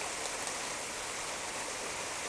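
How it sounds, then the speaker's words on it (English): Hail pouring down outside a back door during a sudden storm, a dense, steady hiss of small impacts with no break and no voices. "Like, literally, it was sunny one moment, and next there's hail coming down."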